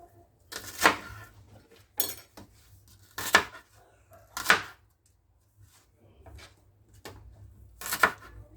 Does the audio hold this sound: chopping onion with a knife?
yes